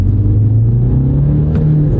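A German diesel car with a six-speed manual climbs a small hill, its engine a loud, close, steady rumble whose pitch slowly rises as it pulls, with no talking.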